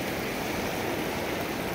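A flooded river in spate rushes past in a steady, dense roar of churning water, loud and close, with no voices and no break in the flow.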